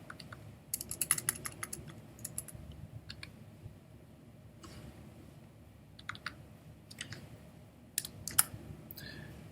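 Computer keyboard typing in quiet bursts of rapid clicks separated by pauses, fairly faint and close, with no voices.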